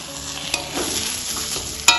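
A spoon scrapes and stirs through mashed taro paste (kochu bata) with sugar cooking in a pan, giving a continuous close sizzle with soft scraping. There are two sharp clicks, one near the start and one at the end, and no voices.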